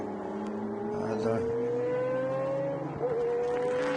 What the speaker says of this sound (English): V12 sounds around this circuit, reminding us of the great Jaguar victories at Le Mans